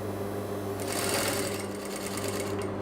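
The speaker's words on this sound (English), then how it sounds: "then I'm going to sew my seam" A domestic sewing machine runs steadily, stitching a seam on a channel zip with a continuous close mechanical whir and hum through the whole stretch.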